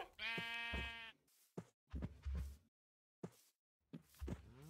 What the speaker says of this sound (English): Not the freaking sheep.